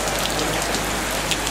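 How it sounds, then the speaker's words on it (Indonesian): Rain pours steadily onto a surface in a dense, even hiss of drops, loud and unbroken with no voices, at an outdoor gathering. "Katanya hujan ini bukan malapetaka"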